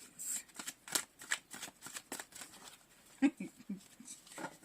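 Deck of cards being shuffled for a reading, a series of quick close riffles and soft slapping bursts in uneven rhythm, with no talk over them.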